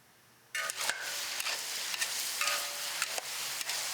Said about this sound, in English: Frying ingredients for 30 people with both hands every month on Recycling Day